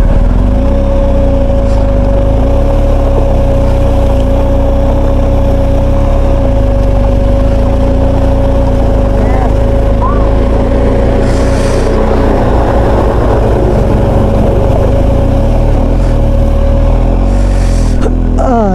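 A BMW GS adventure motorcycle engine runs steadily and loudly as the bike rides through a water crossing on a high mountain pass in Ladakh, with a continuous low drone and a faint whining tone throughout.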